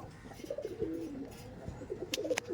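Teddy Kamagar pigeons at a loft give a couple of low, rolling coos close by, followed by a few sharp clicks near the end.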